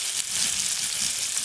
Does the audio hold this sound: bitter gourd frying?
yes